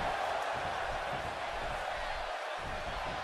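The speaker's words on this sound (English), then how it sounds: "how great has this Charlotte crowd been tonight? They are absolutely electric right now." A wrestling arena crowd in Charlotte during a WCW Monday Nitro match, a dense, roaring wall of cheering that holds steady throughout with an announcer talking over it.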